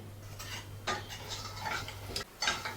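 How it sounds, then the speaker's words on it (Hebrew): Nuts are stirred in melting sugar in a pan as it turns to caramel, producing soft scraping and clinking of a utensil against the metal in irregular strokes over a low steady hum. "ואני מערבבת עדיין עד שהסוכר פעם הזאת נהיה קרמל"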